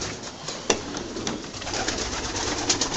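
Pigeons in a loft of a Polish racing-pigeon fancier coo steadily and softly against a dense rustling background, with a sharp flutter or knock near the start and continuous murmuring calls throughout.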